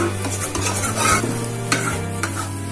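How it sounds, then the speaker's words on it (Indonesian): Wet spice paste for opor ayam sizzles steadily in a hot pan while a utensil stirs and presses it, producing a close, continuous frying hiss with scraping strokes and no talk. "Ini bumbunya kita masak sekitar 5 menit."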